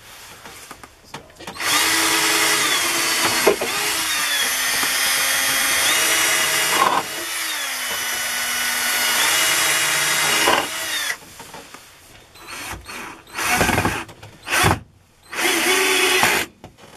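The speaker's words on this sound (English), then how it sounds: "All the noise is the screwdriver had the clutch on it." Power screwdriver driving screws while installing 12v outlets in an Aliner camper, its whine ratcheting as the clutch slips, in long runs and then short bursts, close and loud.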